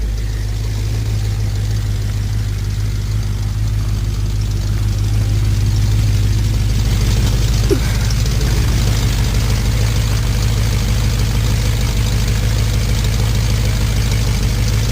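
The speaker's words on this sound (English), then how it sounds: "give it a couple of revs and see what it really sounds like" A BMW E9X M3 engine idles with a deep, steady rumble through a throaty X-pipe exhaust, one brief blip midway, continuous and close.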